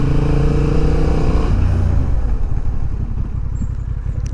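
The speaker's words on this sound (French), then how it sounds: "je vais faire un petit test de freinage" A 2023 Honda CB750 Hornet motorcycle engine drones loudly near the microphone, then drops in pitch and settles into a rough, pulsing low idle as the bike brakes hard to a stop.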